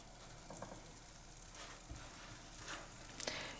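Kefir pancake batter, made without yeast, fries in a skillet with a soft, steady sizzle and scattered small crackles and pops, quiet and close, with no talking.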